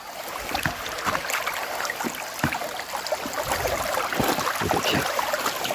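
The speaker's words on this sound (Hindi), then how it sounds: "और ये जो पानी की आवाज़ है," A forest river streams past, made of small channels merging into one flow, a steady close rush of water with splashes and gurgles throughout.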